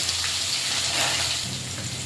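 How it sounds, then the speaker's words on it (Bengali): Sliced onion sizzles in hot oil in a kadai for a fish curry, a steady close hiss of frying with no voices. "পেঁয়াজটা দিয়ে দেবো কড়াইতে"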